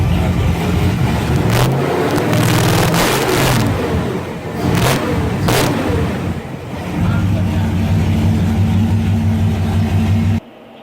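A pumpkin truck's engine runs on straight pipes without a muffler. It is loud and near, revving with a rough rumble, then settling into a steady, throbbing idle before cutting off abruptly near the end.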